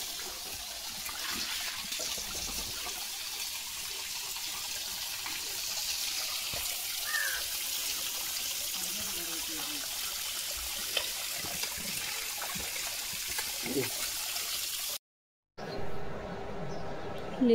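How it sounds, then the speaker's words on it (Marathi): Water running from a broken tap indoors, a steady faint hiss and trickle that continues throughout, with a few soft background sounds and a brief gap near the end. "लिओचा पराक्रम आहे हो नळ तोडल्याबद्दल"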